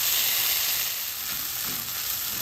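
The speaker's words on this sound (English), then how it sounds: "Now I'm gonna add in my green chilies, allow them to saute in for a second" Green chilies sautéing in a pan for vegetarian chili cheese enchiladas, giving a steady, even hiss of frying with little stirring noise, close and moderately loud throughout.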